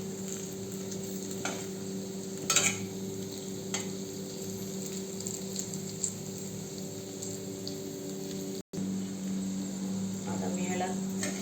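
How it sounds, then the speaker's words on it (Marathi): Okra being stir-fried in a pan over very low gas for a masala bhindi dish, a steady soft sizzle with occasional scraping stirs running throughout, moderately close. "आता मी ह्याला 3 ते 4 तरी असे छोट्या एकदम कमी गॅसवरती परतत राहिले की भेंडी आपली रेडी झाली भाजी"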